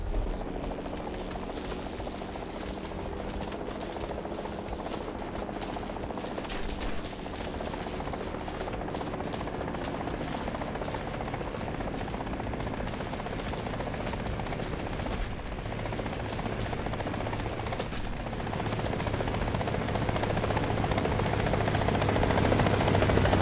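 Mi-35 attack helicopter in War Thunder shooting down another helicopter: a steady rotor drone throughout, loud and close, broken by bursts of rapid cannon or machine-gun fire, with no talking.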